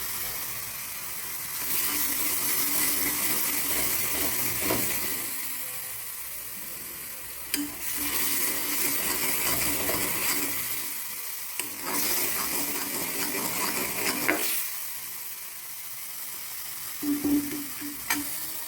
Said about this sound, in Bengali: এখন মশলাটা ভালো করে আস্তে আস্তে করে কষাবো